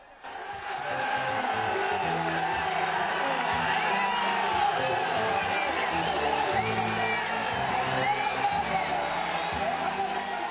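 A large crowd at a political rally in Anuradhapura roars and cheers continuously, with whoops and yells in a dense, sustained wall of sound that swells at the start and holds loud throughout.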